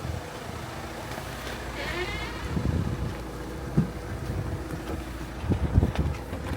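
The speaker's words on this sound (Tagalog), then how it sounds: "Ay, ang hangin." Wind buffets the microphone in gusty rushes, with low rumbling and a few louder bumps along the way.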